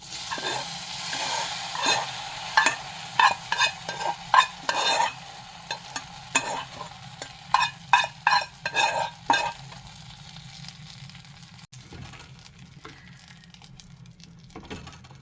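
Browned coconut is tipped into a pumpkin erissery curry and stirred, giving a run of close, irregular spoon scrapes and clatters over a soft simmering sizzle that thins out to quiet bubbling; no talking.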